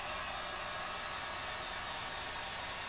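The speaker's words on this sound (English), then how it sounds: "It's a super duper old hair dryer." An old hair dryer running on its first setting makes a steady, even rushing whoosh of airflow throughout, close and constant with no voices.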